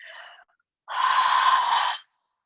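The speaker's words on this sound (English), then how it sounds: "That's basically the air coming in contact with the back of my throat." A short faint breathy sound, then a steady rasping rush of air drawn against the back of the throat, held for about a second.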